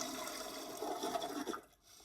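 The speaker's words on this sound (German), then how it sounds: "benutze ich die Toilette, drücke auf den Spülknopf und wasche meine Hände" A toilet flush in The Sims, a steady rushing gurgle of water for about a second and a half that cuts off abruptly into near silence.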